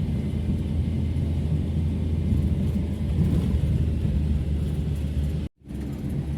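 Steady low engine drone from a Daihatsu Espass held in first gear while climbing a long hill, constant and fairly loud, with one brief dropout near the end and no talk.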